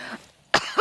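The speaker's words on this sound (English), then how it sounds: "Coughing?" Two short coughs from a character in the TV-news video game Not For Broadcast, a brief throat-clearing rasp followed by a sharper, louder cough, close and dry with no other sound.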